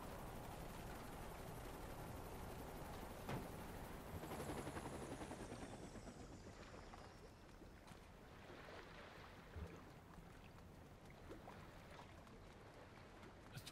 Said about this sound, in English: But my helicopter will despawn.